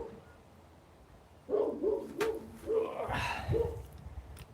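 A few sharp barks from an anxious dog somewhere in the house, off in the background behind work on a snowblower carburetor, coming as a short burst of repeated yaps.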